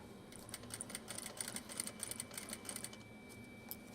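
A sewing machine stitches a 1/2 inch seam in a home sewing room, a faint, quick rhythmic whirring patter running for a few seconds without talk.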